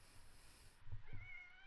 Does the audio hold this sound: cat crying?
yes